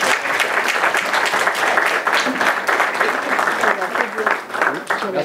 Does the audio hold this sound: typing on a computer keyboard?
no